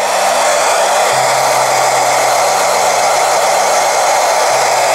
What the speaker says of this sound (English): I'm just going to use a hairdryer to get the prosthetic dry